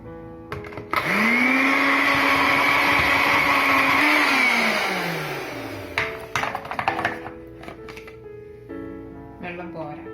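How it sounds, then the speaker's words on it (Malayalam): A mixer grinder grinds coconut with a little warm water, giving a loud steady whirring roar for a few seconds before spinning down, followed by clattering and knocks of the jar. "ഇത് മിക്സിയിൽ ഒരുവിധം നന്നായിട്ട് അരച്ചെടുക്കാം."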